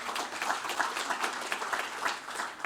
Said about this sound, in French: Ça mérite quelques applaudissements.